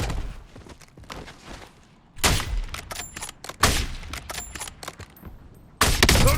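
Gunfire in the video game Warzone: sharp, loud bursts of shots crack out in separate clusters, with quieter footsteps and thuds between the volleys.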